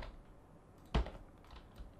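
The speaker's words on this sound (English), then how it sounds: "Hit S on the keyboard." One key is pressed on a computer keyboard, a single crisp click close and quiet against a faint room background, with a couple of softer taps after it.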